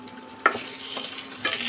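Potatoes hit hot oil in a pan for a mixed vegetable curry, a soft sizzle with sharp stirring clinks of a spatula against the metal, close and fairly quiet.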